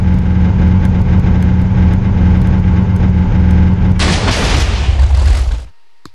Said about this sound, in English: this double chest full of minecarts is going to produce a very large explosion